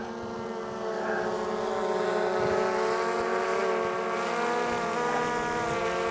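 A GoPro Karma drone hums overhead on its return to the launch point, a steady droning whine with layered propeller tones holding close and fairly loud throughout.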